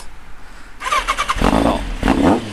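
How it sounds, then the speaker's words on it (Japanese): A Kawasaki GPZ900R Final Edition motorcycle with FCR carburetors and a titanium full exhaust cranks and fires up on a cold winter day, then settles into a rough, loud idle with uneven pulsing close by. "じゃあエンジンかけていこうと思います。"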